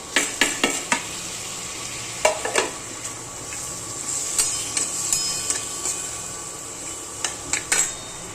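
Potatoes and tomatoes going into a frying masala for Puneri misal, with scattered clinks of a spoon against the pan over a steady low sizzle and no talking.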